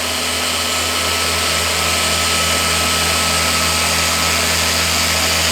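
A car polisher run at speed 5 buffs automotive paint, giving a continuous loud, steady motor drone with constant hum and no pauses.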